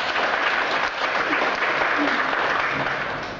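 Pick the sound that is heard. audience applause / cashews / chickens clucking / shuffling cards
audience applause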